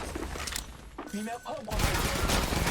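Rapid gunfire in a video game shooter, bursts of automatic shots at the start and a heavier continuous barrage at the end, with a voice speaking in between.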